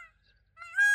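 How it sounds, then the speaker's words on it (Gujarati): A peacock gives a loud, nasal honking call near the end, preceded by a softer tonal cry and short low murmurs. "મોર કેવા મસ્ત બોલે છે ત્યાં"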